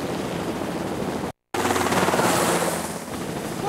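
An approaching helicopter in a Jurassic Park game, a steady rotor roar that briefly drops out and then returns slightly louder and rougher.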